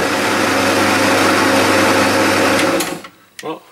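A Meddings bench pillar drill, just fitted with a new drive belt, runs with a steady loud whirring hum, then winds down and stops near the end, followed by a few brief knocks.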